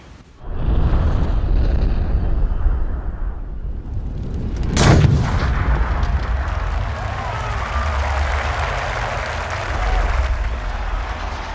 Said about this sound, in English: And that ball absolutely walloped. That is a big drive there.